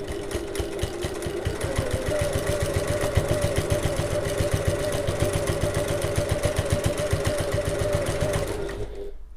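A home sewing machine runs steadily at regular construction stitch length, joining the ends of a zip together with a fast, even mechanical whirr and rapid needle ticking. It runs close and continuously for nearly the whole stretch, then cuts off.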